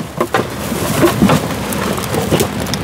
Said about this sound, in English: Lord, this rain is chilly